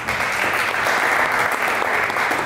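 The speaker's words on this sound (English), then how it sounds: "So, boxers, give yourself a big round of applause." Audience applause at a boxing promotion press conference: sustained, dense clapping from a crowd, steady and loud throughout with no pauses.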